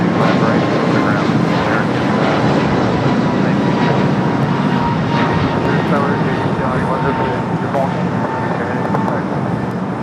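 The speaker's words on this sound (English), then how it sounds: "Just had a China Airlines cargo 777 just arriving here on the south" A China Airlines cargo Boeing 777 arrives at Los Angeles International Airport (LAX), giving a loud, steady broadband jet roar that fills the whole stretch, with muffled voices faintly beneath it.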